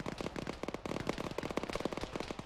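Crackling burst of a grenade explosion in the ArmA military shooter, loud and dense with rapid popping debris throughout a short stretch.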